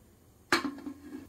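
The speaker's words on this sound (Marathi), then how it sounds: "आता मी कुकर बंद केलाय" A single sharp metallic clank as the lid of a pressure cooker is closed in a home kitchen, followed by a short ringing rattle that fades quickly, close and fairly quiet.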